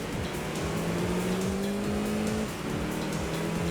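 Racing cars in the video game Enthusia roar steadily at high revs, engine tones rising together as the pack accelerates, with brief tire squeal over a continuous loud drone.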